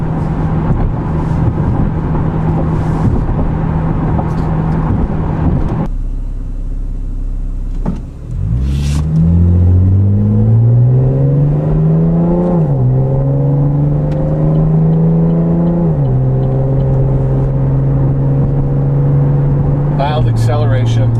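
A Camaro V6 with an MRT axle-back exhaust drives along, a steady low hum with road and wind noise, then revs climb in rising, smooth stepped pulls across several gears, loud and continuous throughout.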